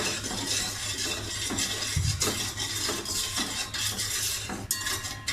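Spoon scrapes and clinks against a metal pot while agar-agar and sugar are stirred over the heat, repeated rhythmic stirring strokes, close and clear, with a low steady hum beneath.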